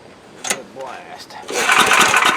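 A Coleman Powermate MAXA 5000 ER portable generator is pull-started: a rising cord pull, then the engine catches into a loud, close, rough chatter, with a voice nearby.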